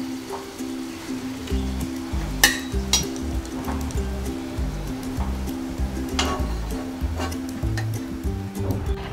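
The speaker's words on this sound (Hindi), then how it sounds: "ऐसे ही बाकी पूरी हम फ्राई कर लेंगे" Pooris deep-frying in hot oil give a steady close sizzle and bubbling, with occasional sharp clinks of a utensil and a loud rhythmic tonal hum running beneath.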